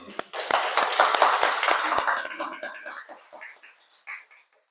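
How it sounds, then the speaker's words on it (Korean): A church congregation claps in welcome during a Christmas service, a burst of scattered applause that thins out into a few last claps, with voices murmuring as it fades. "박수로 환영합니다"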